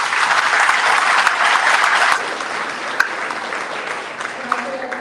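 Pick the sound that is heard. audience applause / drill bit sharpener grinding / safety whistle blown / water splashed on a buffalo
audience applause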